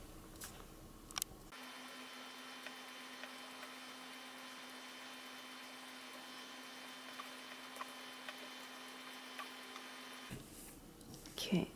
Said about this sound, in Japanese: この輪っかの部分、曲線の部分を縫っていきたいと思います。